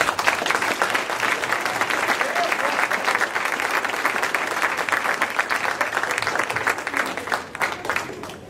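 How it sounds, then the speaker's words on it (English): Sustained applause from an audience at a school board meeting honoring teachers, steady dense clapping throughout that thins slightly near the end. "Let's give them all a round of applause."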